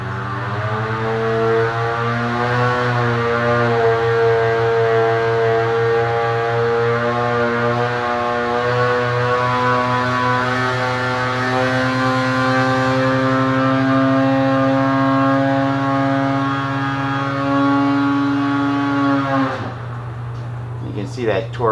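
A Polaris Matryx 850 snowmobile engine with a Bikeman Stage 1 kit and BMP Y-pipe roars at sustained high revs on a dyno, a loud steady harmonic drone that climbs gradually before dropping off sharply near the end.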